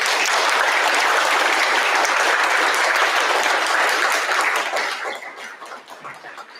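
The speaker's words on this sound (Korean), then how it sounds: "석동현 사무처장님을 뜨거운 박수로 모시겠습니다." A forum audience welcomes a speaker with warm, dense applause that holds strongly for about five seconds, then fades quickly to a few lingering claps.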